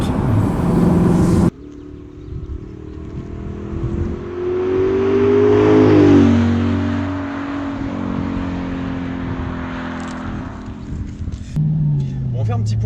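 A 420-horsepower Audi R8 with a 4.2-litre V8 FSI engine revs up from a low rumble into a loud, rising howl that peaks and then settles back down, with someone speaking over the engine at the start and end.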